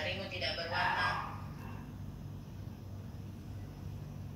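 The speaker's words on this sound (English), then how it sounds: "Damn, parrots." Parrots in a Minecraft-style survival game make a short burst of bright, squawky chirps during the first second and a half, then fade into a low, steady game ambience.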